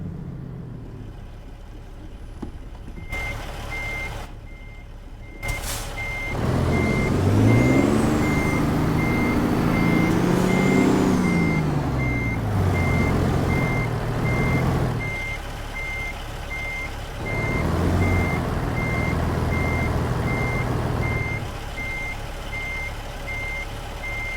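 A truck in American Truck Simulator sounds its reversing alarm, a steady train of evenly spaced beeps over a rumbling diesel engine that swells and eases as the rig maneuvers, with a brief air-brake hiss early on.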